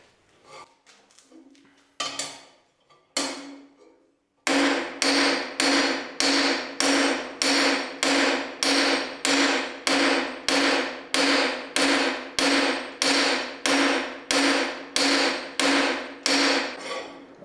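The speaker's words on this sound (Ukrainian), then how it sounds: "просто натренувати бити молотком" A hammer strikes cold metal in forging practice, a few uneven taps giving way to a steady run of loud, ringing blows at an even pace, each one decaying before the next.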